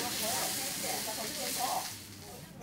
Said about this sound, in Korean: 마을 잔치에 빠지지 않는 지글지글 부침개